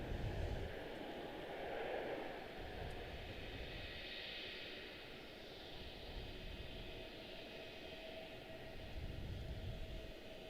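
Airbus A321neo airliner at Washington Dulles airport, a steady broad engine roar holding at moderate distance for the whole stretch, swelling slightly at the start and end as it passes.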